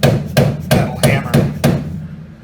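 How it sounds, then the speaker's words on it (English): A rubber mallet taps a front suspension part into place on a small-body AMC Gremlin or Hornet: six evenly spaced, solid thuds at close range, then a fading ring. "Again, use the rubber mallet"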